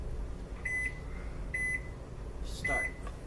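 Three short electronic beep bursts from a kitchen timer being set while English muffins cook in a pan, clear and moderately close over a steady background hum, followed by a faint click.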